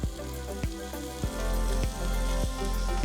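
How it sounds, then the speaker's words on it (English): Prime ribeye beef sears in olive oil in a hot pan, a steady close sizzle with crackling pops, loud and continuous, with small spatters punctuating the frying. "As you can hear, the meat start searing on that side."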